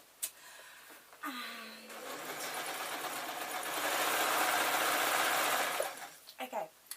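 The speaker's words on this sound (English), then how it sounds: "Okay, I'm sewing these two together." A sewing machine stitching a PVC-lined picnic blanket, a steady close mechanical whir that builds and holds for several seconds before stopping, with brief handling clicks around it.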